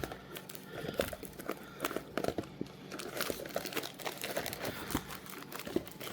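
Plastic shrink-wrap is torn and crinkled off a 2025 Topps Chrome trading card box, with close, irregular crackling, rustling and small ripping bursts throughout.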